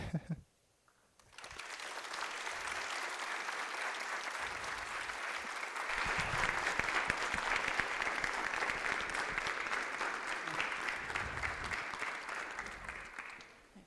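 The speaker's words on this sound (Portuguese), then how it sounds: "Olha, palmas longas, né?" A long round of applause follows an academic presentation on recognizing morphological patterns in cancer with convolutional neural networks, starting after a brief quiet moment and continuing as steady, dense clapping that swells slightly midway.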